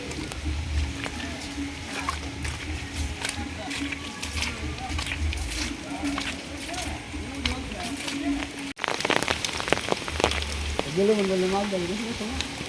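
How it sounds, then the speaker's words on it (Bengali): Heavy rain falls steadily, a dense continuous hiss of drops on surfaces, with someone talking over it toward the end. "সারা রাত বৃষ্টি নামছে, দেখুন সকাল থেকেও বৃষ্টি, বৃষ্টির শেষ নাই।"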